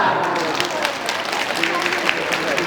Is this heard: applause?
yes